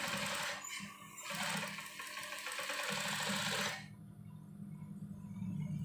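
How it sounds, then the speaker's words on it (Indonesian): A sewing machine stitches along the edge of a side pocket on a koko shirt, a close, steady whirring run that cuts off abruptly partway through, leaving a quieter mechanical hum. "Kita jahit setik pada pinggirannya."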